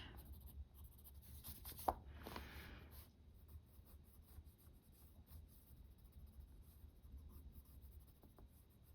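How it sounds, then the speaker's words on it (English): A white pencil colors lightly on paper, giving a faint, close, continuous soft scratching with small strokes and a brief sharper tap near the start. "I'm sure you could do this with any white pencil."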